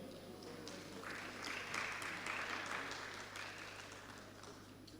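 Audience applause at a stakeholders' validation session, a steady sustained patter of many hands clapping from across the room, moderately distant and even throughout.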